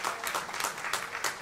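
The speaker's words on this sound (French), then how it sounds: "Applaudissez, applaudissons-le ensemble." Church congregation applauding together during a sermon, a dense steady clapping with no one speaking.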